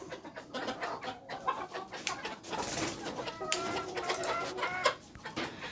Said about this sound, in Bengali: দেখেন আসার সঙ্গে সঙ্গে মুরগিগুলো কি করছে